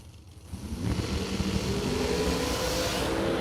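The TNT dragster launches at a drag race, engine noise swelling from a low rumble into a loud, sustained roar with a broad, rushing quality that holds steady to the end.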